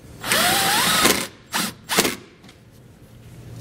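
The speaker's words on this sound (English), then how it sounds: "the way I'm going to do that is by using the provided self-tapping screws" Power drill driving self-tapping screws into a vehicle firewall, one close burst of drilling followed by two short quick bursts, with no talking.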